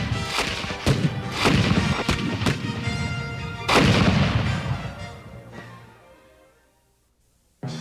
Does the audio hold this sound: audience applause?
no